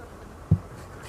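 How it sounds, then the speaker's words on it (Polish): Honeybees from a weak apiary colony buzzing in a steady, low drone close by, with a single soft thump partway through and no voices. "O tu mi pszczoły idą."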